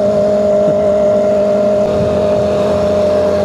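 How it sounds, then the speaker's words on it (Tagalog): A motorcycle engine runs steadily close by with a sustained drone, rising slightly as it revs, under continuous road and wind noise while riding toward a cafe. "Hingay ng motor niya."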